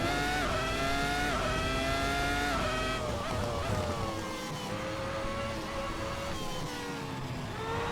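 A race car engine in a sim racing game, revving high and steady with rising and falling pitch as the throttle is lifted and reapplied through corners, loud and continuous with no talk.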